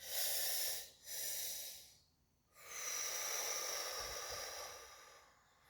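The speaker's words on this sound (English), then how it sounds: "Taking a big breath. And out. Another one." Deep breaths drawn in and let out during a grounding stretch, two long breathy airflows separated by a short pause, close and fairly loud with no talking.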